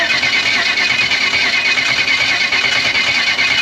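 A car engine with fresh heat in the motor cranks and runs, a loud, close, continuous roar with dense mechanical rumble and no pauses, with no talk.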